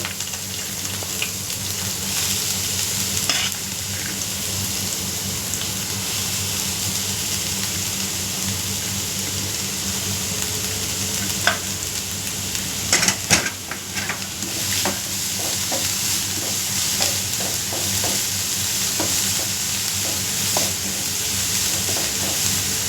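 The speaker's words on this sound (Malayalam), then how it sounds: "കുനുകുനാന്ന് അരിഞ്ഞ ഓണിയൻ നമുക്ക് ഇതിലേക്ക് ഇട്ട് കൊടുക്കാം" Finely chopped onion fries in hot oil with popped mustard seeds for a prawn masala, a steady close sizzle running throughout with occasional stirring clinks and scrapes.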